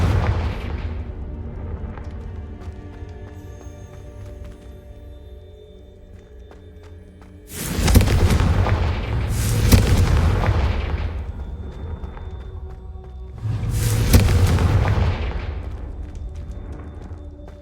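Booming fire-spell blasts in Hogwarts Legacy, three heavy explosive bursts each followed by a crackling, rumbling decay, over a softer ambient game backdrop.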